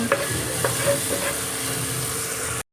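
Rice with salt and turmeric is stirred in a pan, a soft scraping and gentle sizzle repeating through a few close, steady strokes with no speech.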